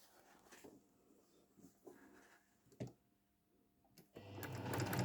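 A sewing machine stitches a quilt block in short quiet bursts with pauses between, then runs loud and steady near the end.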